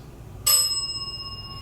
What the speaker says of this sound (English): The bell just dinged.